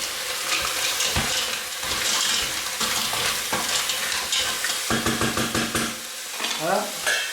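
Mussels tossed with curry powder in a pot and stirred, with repeated scraping and clinking strokes over a steady sizzle, then a few brighter metallic clatters near the end; no one speaks.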